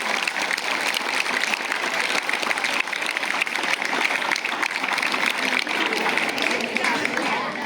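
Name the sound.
audience applause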